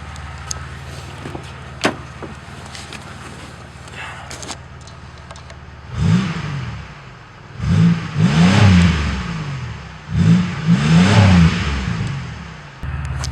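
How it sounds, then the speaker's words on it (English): Car engine with a newly replaced muffler idling with a low rumble, then revved in several rising-and-falling bursts, loud and close, with no talking. "We'll rev it up a little."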